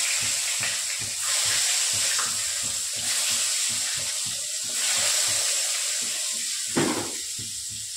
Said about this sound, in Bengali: তো চলো ভেজে নিই